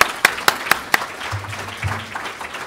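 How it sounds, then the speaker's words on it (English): Several sharp, separate claps open, then thin, scattered clapping trails off under a low murmur from a conference audience at an epilepsy research meeting. "please join me for giving a round of applause for our wonderful session here"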